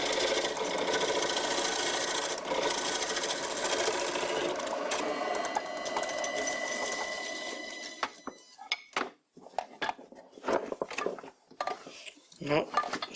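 Homemade bowl gouge cutting a wood bowl spinning on a lathe, a continuous close shrill whir and scraping that gives way to scattered knocks and clatter, with someone talking.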